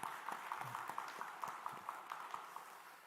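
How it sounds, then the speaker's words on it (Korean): A church congregation claps for a Korean War veteran during a Sunday service, a steady patter of many hands heard from a distance, faint and fairly even over about three seconds. "우리 문찬영 권사님한테 박수 한번 해주시기 바랍니다"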